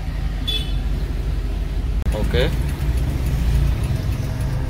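The engine of a left-hand-drive Daihatsu Zebra pickup with 46,000 km runs at a steady idle, a low rumble beneath a man's brief speech, with a short click partway through.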